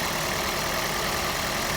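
A 2001 Toyota Prius air-conditioning compressor with a cycling clutch runs in a steady, loud, broadband whir and hum with no break, and no one talks over it.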